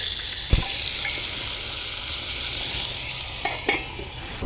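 Burgers sizzle steadily while frying at 8:30 in the morning, a constant hiss filling the clip, with a few short clicks and knocks from a utensil or pan nearby.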